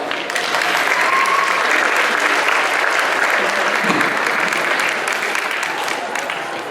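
Sustained applause from an audience at a welcome dinner, greeting a professor as he comes up to speak. The clapping is dense and steady, fills the room at an even level and runs throughout.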